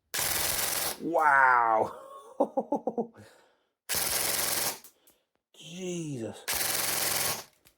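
Bursts of rapid full-auto fire from a Delta Armory Stribog SP10A3 submachine gun, three loud sustained strings of shots separated by short gaps, with a man's excited exclamations between the bursts.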